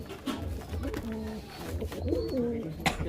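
Pigeons coo in a loft kept by a pigeon fancier, a soft murmuring chorus of several birds nearby, with a faint voice briefly mixed in.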